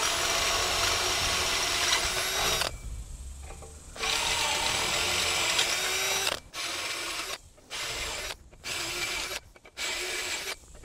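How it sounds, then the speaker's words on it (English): A power drill bores bolt holes through steel for a welded sign frame, running in loud bursts: a long stretch, a pause, then several shorter pulses separated by brief silences. "We get these holes drilled"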